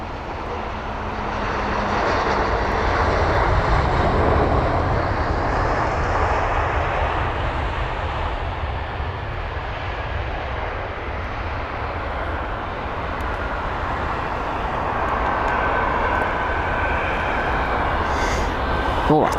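An Aer Lingus Airbus A319 arriving at London Heathrow from Stuttgart, its jet roar swelling and holding steady as a loud, broadband rumble across the whole stretch, with no talk over it.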